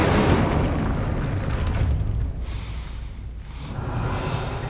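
An Incendio fire spell cast in Hogwarts Legacy, a loud roaring whoosh of flame that surges, dips briefly in the middle and swells again, with no talk.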